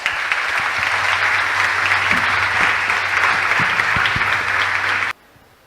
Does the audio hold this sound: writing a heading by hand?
no